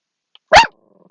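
A dog lets out one loud, close, gruff bark, short and sharp, in an otherwise quiet room.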